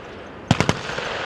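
Gunfire at a military firing range, a quick burst of three sharp reports followed by a fainter shot, heard at moderate distance with no talk.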